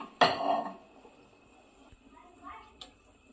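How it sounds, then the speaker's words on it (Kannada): A metal pan set down on a home gas stove makes one close clunk with a brief ringing tail, followed by faint small clinks in a quiet kitchen. "ಈ ರೀತಿ ಒಂದು ಪ್ಯಾನ್ ಇಟ್ಕೊಂಡೇನ್ರಿ"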